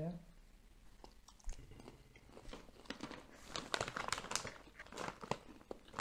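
Someone tears open a packet of Tadelle hazelnut snack bars and bites in, bringing close crinkling wrapper noise and crunchy chewing while people talk quietly alongside.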